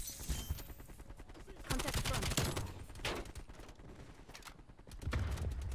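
Rapid gunfire in the video game Call of Duty: Black Ops Cold War crackles in repeated bursts and volleys at moderate volume, with some speech-like sound mixed in.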